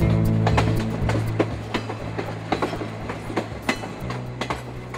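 An Ontario Northland refrigerated freight train rolls past, steady low rumble with repeated clickety-clack wheel strikes over rail joints and metallic clanks, close and continuous.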